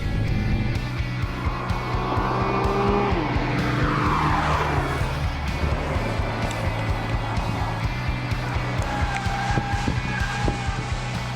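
Race cars lap a track at a driving academy, engines droning and rising in pitch as they pass, with shifting tones and whining sweeps, loud and continuous with occasional faint talk beneath.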